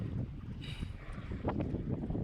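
Strong wind buffets the microphone in a steady low rumble, with gusty swells throughout.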